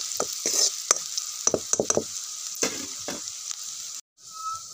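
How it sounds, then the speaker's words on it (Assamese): Onions frying in oil are stirred with a spoon, scrapes and knocks landing in uneven strokes over a continuous bright sizzle, close and fairly loud, with a brief drop near the end. "এতিয়া মই অলপ লৰাই দিছোঁ। লাহে লাহে চাওকচোন পিঁয়াজবোৰ অলপ ৰঙচুৱা পৰিছে।"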